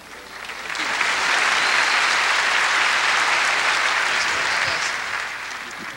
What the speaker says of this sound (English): Another nice round of applause, everybody.